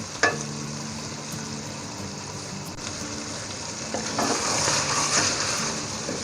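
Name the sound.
boiled mutton being fried (bhuna) in a pot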